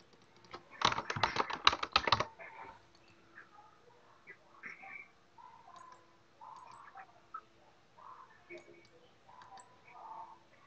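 A burst of rapid clicking on a computer keyboard, close and busy for about a second and a half, then scattered faint taps and murmured speech over a low hum.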